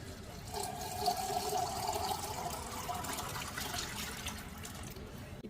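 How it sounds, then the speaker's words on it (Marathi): Water poured into a bowl of spiced buttermilk, a continuous close splashing pour lasting several seconds. "आता याच्यामध्ये पाणी टाकून घेऊया."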